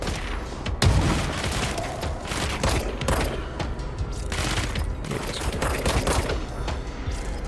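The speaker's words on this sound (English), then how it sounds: "Take a few pot shots at him." Gunfire in the action video game Control, rapid bursts of shots and heavy impacts layered over a dense, loud game soundscape that runs continuously, without speech.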